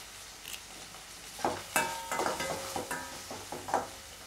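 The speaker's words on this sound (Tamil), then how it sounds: "வெங்காயம் நல்லா வதங்கட்டும்." Onions and curry leaves sautéing in a pan for a beans curry, with a soft background sizzle and a series of close, irregular stirring scrapes and clinks of a spoon against the pan.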